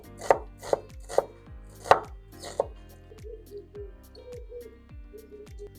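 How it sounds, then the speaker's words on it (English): A knife chops onion finely on a board, with five sharp, evenly spaced strikes followed by a run of softer, quicker taps, close and clear with no talking. "So let's get some onion chopped. You want to chop this onion quite fine."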